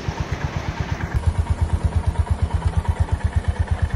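A brand-new Honda CB350 motorcycle rides through a cold Delhi night, its engine thumping in a loud, steady rhythmic pulse close to the listener, with no talking.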